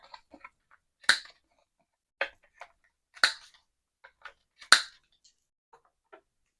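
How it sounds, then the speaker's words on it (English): A handheld corner rounder punch trims the corners of paper for an autumn layered pocket flip book. Three or four sharp, crisp snaps ring out close by, with soft paper handling clicks in between. "I think first, I'm just gonna corner round this."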